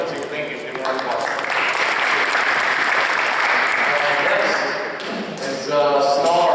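A room at a football awards ceremony gives an award recipient a round of applause, dense sustained clapping that holds loud for several seconds, then dips and picks up again.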